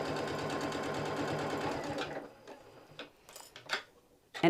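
A home sewing machine stitches fabric for small hostess gifts, running in a steady, rapid mechanical rhythm for about two seconds before stopping, followed by a few scattered clicks and handling knocks in a quiet room.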